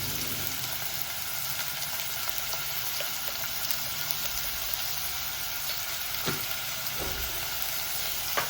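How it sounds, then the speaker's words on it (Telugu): Onions fry in oil in a pan with salt and turmeric as the base of a mixed vegetable stew, making a continuous close sizzle with occasional soft stirring knocks. "అంత వేసి బాగా ఉల్లిపాయలు బాగా వేగి ఆయిల్ పైకి వచ్చేదాకా బాగా వేయించుకోవాలి"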